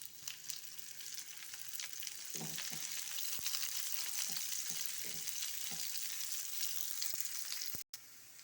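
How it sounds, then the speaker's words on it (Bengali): Chopped garlic and onion frying in a pan, a steady close hiss with scattered crackles and spatula scrapes that thicken after a couple of seconds, then cut off abruptly near the end. "রসুনটা ভালো করে একটু লাল লাল করে নিব। এবার দেব আমি পেঁয়াজ কুচি।"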